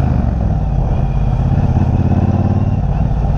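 A 2018 Triumph Bonneville Bobber motorcycle being ridden, its engine a steady, loud, close rumble that continues unbroken for a few seconds, with no distinct jolt from the bump standing out.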